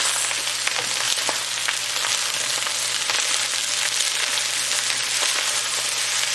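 Hawaiian fried rice is tossed in a hot pan, giving a loud, steady sizzle throughout with faint scraping of the utensil underneath.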